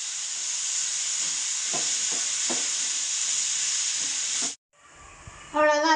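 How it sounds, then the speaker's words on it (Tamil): Boiled, crushed potato filling being sautéed in a pan, heard as a steady close sizzle with a few soft stirring knocks for about four and a half seconds, then a brief drop and a short burst of brighter hissing and scraping. "நல்லா வதக்கிட்டாச்சு"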